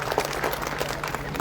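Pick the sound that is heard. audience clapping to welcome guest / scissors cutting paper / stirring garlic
audience clapping to welcome guest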